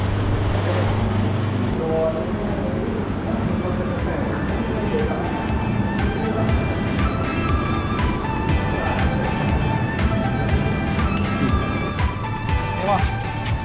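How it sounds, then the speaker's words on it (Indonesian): Chicken marinade machine running in a poultry processing factory, a continuous mechanical rumble and clatter with metallic tones, while people talk nearby. "Ah ni mesin marinade. Mesin marinade ayam."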